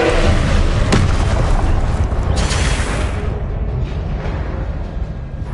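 A Harry Potter Confringo blasting spell detonates with a loud booming burst, a sharp crack followed by a rumbling roar that swells again and then slowly fades into a dull low rumble.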